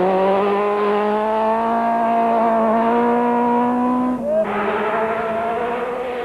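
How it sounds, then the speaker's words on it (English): A Class B rally car on a mountain stage in 1991, its engine loud and close in a sustained high rev with harmonics climbing, briefly dipping on a gear change before pulling on. "Jurgen Snell and Gillian Tarleton on their way to a best Class B time"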